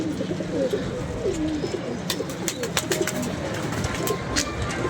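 Domestic pigeons coo in soft, repeated low throaty calls close by, with light scattered clicks and ticks from the loft over a steady background hum.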